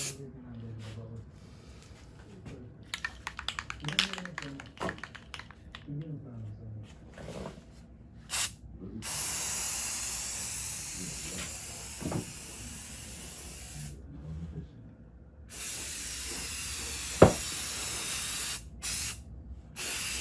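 Undercoating sprayed onto the tailgate of a 1952 PD4103 bus, starting with scattered handling noises and a brief burst, then long steady hissing sprays, quiet and close, with a few sharp spurts near the end.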